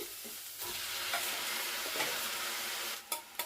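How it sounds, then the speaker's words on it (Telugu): Tomatoes hit hot oil in a heated kadai and sizzle steadily at a moderate level, with a few sharp clinks of stirring near the end and no voices. "ఆయిల్ కూడా వేస్తున్నాను కళాయి వీటెక్కింది ఇవన్నీ వేసేస్తున్నాను టమాటాలు వేస్తున్నానండి"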